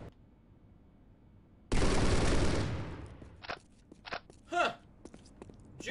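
Heavy burst of gunfire in the video game Postal 2, a loud dense volley lasting about a second and trailing off, followed by scattered short hits and a voice-like sound.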